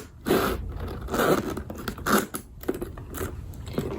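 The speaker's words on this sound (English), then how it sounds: "The zipper is smooth. It's easy to open and close." The zipper on a Chanel filigree vanity case is drawn open and shut in several rough, scraping pulls, each a short textured rasp with small pauses between, close up and without talk.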